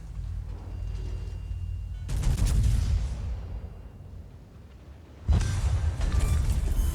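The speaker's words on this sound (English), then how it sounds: "The Lowenhart manages a torpedo strike on the Graf Spee." Naval combat in World of Warships around the Graf Spee: a low rumbling engine bed is broken by two loud booming bursts of gunfire and impact that crash in and decay slowly.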